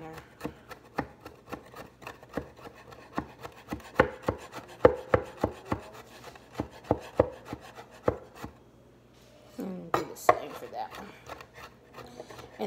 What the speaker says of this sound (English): I'm just going to cut it up just a little bit